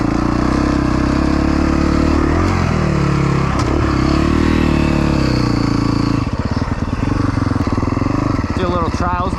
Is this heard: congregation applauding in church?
no